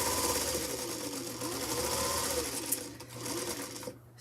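Domestic sewing machine, missing its original bobbin case, stitching continuously with a fast buzzing whir and mechanical ticking, steady and close, slowing and stopping at the end.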